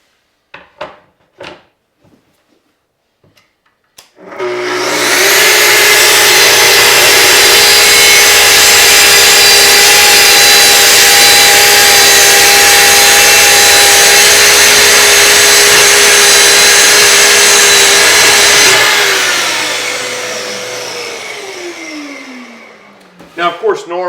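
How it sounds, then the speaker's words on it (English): A Festool circular saw rips through a sheet of plywood in one long, loud, steady cut lasting about fifteen seconds, whining up at the start and winding down at the end, with a few faint knocks before and after. "normally you want to cut your plywood with the good face down when you're using a circular saw, but with the Festool saw, it cuts such a nice clean cut"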